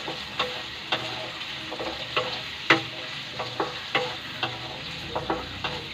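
Potatoes, onions and chili fry in a covered pan, a low muffled sizzle steadily underneath with regular sharp spits and pops every half second or so, close and clear without speech.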